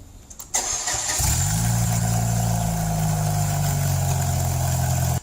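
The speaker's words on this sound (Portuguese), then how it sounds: "E o motor funciona." A car engine cranks and catches after a short pause, then settles into a steady, loud idle that runs uninterrupted to the end.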